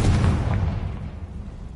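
A Confringo blasting curse explodes in a Harry Potter video game, a heavy, booming blast that hits hard at once, then rumbles and fades away, loud and close.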